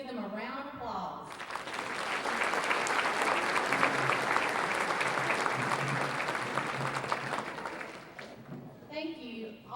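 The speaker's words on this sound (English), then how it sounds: "Please give them a round of applause." A banquet crowd of the 2017 Chamber gathering breaks into full, sustained applause for past Chamber chairmen, swelling quickly and holding loud before tapering, with a voice speaking briefly at the start and again as it fades.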